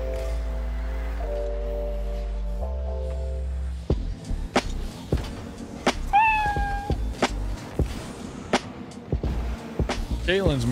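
Domestic cat meowing a few times, with short rising and falling calls near the middle, heard close up after a low steady hum gives way to scattered knocks and rustling.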